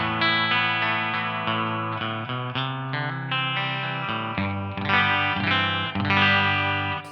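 Burny RLG 60P goldtop singlecut electric guitar on its bridge pickup, slightly out of tune, playing a steady run of articulate chords and notes through a driven, chorus-tinged tone; close and continuous with no talk.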